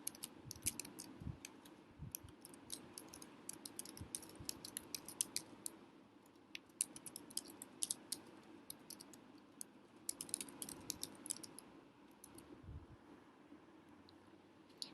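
Rapid irregular clicking of keys on a computer keyboard as questions are typed into a course survey form, steady and close with brief pauses, no voices.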